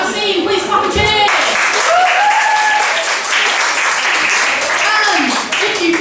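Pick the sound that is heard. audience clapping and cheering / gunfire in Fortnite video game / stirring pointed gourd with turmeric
audience clapping and cheering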